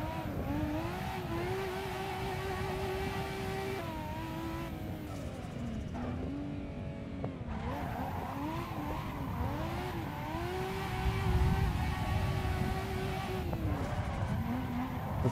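A modded car drifts on a modded track in Assetto Corsa, its engine droning and swooping in pitch while tires squeal and skid continuously, loud and close throughout with no talking.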